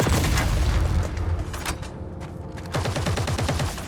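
Combat sounds from the video game EVE Vanguard: heavy booms and rapid turret fire in dense, loud bursts, a brief lull, then more rattling gunfire.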